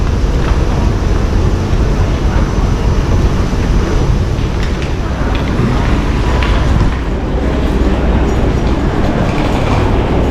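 A feeder train for the Whoosh high-speed rail line runs toward Padalarang station, a loud, steady rumble of wheels and carriage noise with faint rhythmic clatter, continuous and close throughout.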